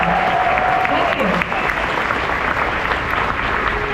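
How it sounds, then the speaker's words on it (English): Crowd applause at an Indiana Jones stunt show at Disney's Hollywood Studios, a dense, steady clapping from a large outdoor audience, loud throughout, with a voice faintly present underneath. "Would you join me, please, in giving them a round of applause they so deserve?"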